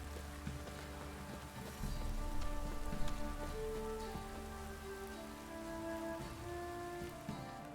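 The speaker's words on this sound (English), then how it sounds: "This downpour's a bastard" Heavy rain downpour in The Witcher 3 video game, a steady dense hiss of drops pattering on surfaces, fairly faint and constant throughout with no talking.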